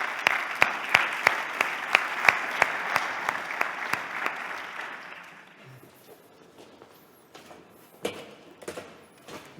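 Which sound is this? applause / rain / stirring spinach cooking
applause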